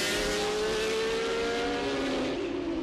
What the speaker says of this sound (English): this is the world-famous Laguna Seca racetrack